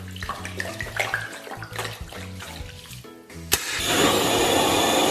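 Water from a tap runs into a pot holding pork intestines for blanching, first as clatter and splashing, then as a steady rushing pour filling the pot over the final seconds.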